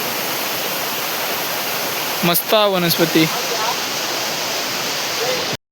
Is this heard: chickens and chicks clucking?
no